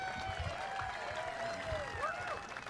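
A crowd applauds and cheers at a bass fishing tournament weigh-in on Smith Lake, a steady wash of clapping with whistles rising and falling over it.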